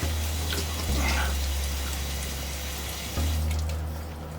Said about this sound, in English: I rinse off my hands